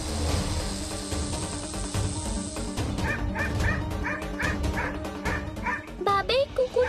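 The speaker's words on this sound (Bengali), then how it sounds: "এই কুকুরটা তো ডাকছে কেন?" A dog barks and yips in a quick repeated series, growing more insistent toward the end, over a busy background of music and other sound.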